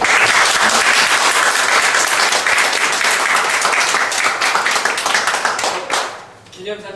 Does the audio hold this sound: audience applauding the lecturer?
yes